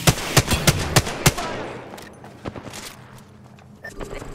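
Rapid burst of close automatic gunfire from a combo of R-301 and R-99 weapons in the battle royale game Apex Legends, evenly spaced loud shots followed by scattered distant shots and clatter, with voices talking over it.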